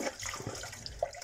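Hot soapy water runs and splashes in a sink while hamster cage items are washed with a sponge, a steady close wash with a brief louder slosh near the end.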